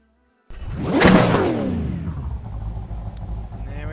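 A race car in the iRacing simulator on track: an engine roars in and sweeps past with a whooshing pitch change, then settles into a sustained drone.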